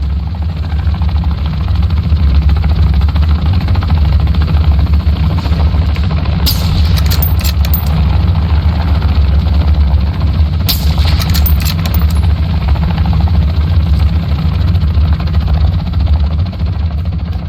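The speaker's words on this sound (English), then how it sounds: "A cargo helo has entered the airspace." Cargo helicopter in a military shooter video game, a steady loud rotor and engine drone filling the whole stretch, with two short bursts of bright crackling gunfire partway through.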